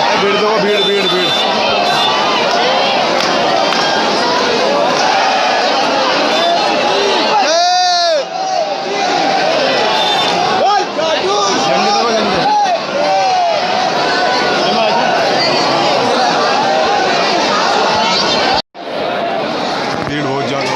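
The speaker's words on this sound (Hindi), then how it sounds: "भीड़ देखो, भीड़ भीड़ भीड़।" A large crowd of devotees mills around Khatu Shyam temple, a dense, close hubbub of overlapping voices and occasional calls and cheers, with a brief dropout near the end.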